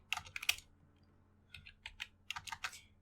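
Typing on a computer keyboard while writing Python code: two short bursts of quick, close key clicks separated by a brief pause, with no talking.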